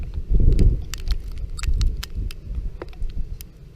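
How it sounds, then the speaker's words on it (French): Heavy shower of hail and graupel snow in Tour-en-Sologne in January, with sharp scattered ticks and pings of pellets striking surfaces over gusty low rumbling. "Très belle averse de neige et de grêle."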